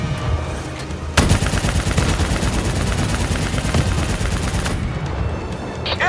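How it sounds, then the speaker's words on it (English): Dense, loud automatic gunfire fills a battle scene in Call of Duty Black Ops 3, as sustained rapid bursts with booming impacts roll on for several seconds before cutting off abruptly. "Nice fucking shooting!"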